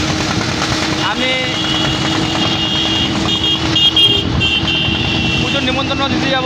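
A motorcycle ridden along the road on the way to deliver puja invitations gives a steady, continuous engine drone mixed with road and wind noise, holding evenly loud for the whole stretch.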